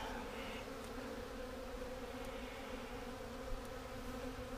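Honeybees from an overwintered colony being prepared for a divide hum in a dense, continuous drone close by, steady throughout with no pauses.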